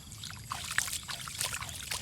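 Water poured over a toy mini truck during cleaning, a steady soft trickling and splashing with small bright drips, fairly quiet and continuous throughout.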